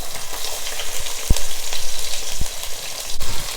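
Two onions fry in hot oil with cinnamon, cloves and cardamom, making a loud, steady close sizzle broken by a few sharp stirring knocks and crackles.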